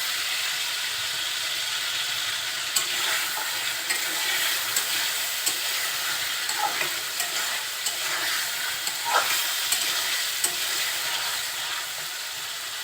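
Shing fish, already coated in salt and turmeric, fry with spices in hot oil, giving a steady, close sizzling hiss with scattered soft pops and occasional spatula scrapes throughout, with no voices.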